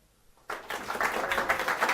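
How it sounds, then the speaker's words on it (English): An audience at a tech conference bursts into applause after a brief quiet moment, the clapping swelling quickly into a dense, steady wash of many hands that keeps building toward the end. "If you all clap."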